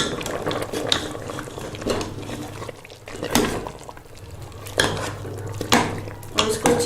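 A spoon stirring chicken paya with fresh fenugreek leaves in a metal pot, with repeated clinks and scrapes against the pot in irregular strokes, plus wet sloshing of the thick stew, close up.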